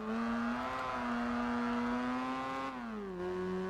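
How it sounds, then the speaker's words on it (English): A smooth, buzzy rotary engine of a car in Gran Turismo 4 Spec II hums at steady revs, then drops in pitch as it eases off, close and continuous. "that's a very nice rotary engine sound there"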